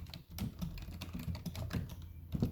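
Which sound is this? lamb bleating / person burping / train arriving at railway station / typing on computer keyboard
typing on computer keyboard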